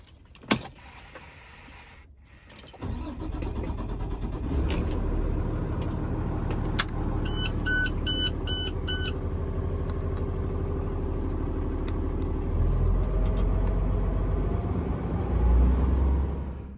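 Keys jangle, then an International truck with a Cummins engine cranks, fires and settles into a steady low idle, with a run of dashboard chime beeps early on.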